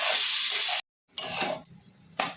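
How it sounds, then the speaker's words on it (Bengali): Rice fries with cashews and garam masala for pulao in a pan, giving a bright steady sizzle that drops out for a moment, then resumes in loud bursts as it is stirred. "চালটা আমার কিছুক্ষণ ভাজা ভাজা করে নিলাম"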